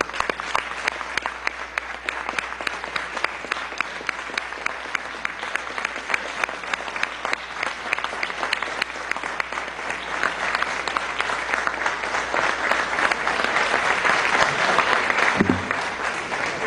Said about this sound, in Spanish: hoy rendimos honor con un aplauso de nosotros los revolucionarios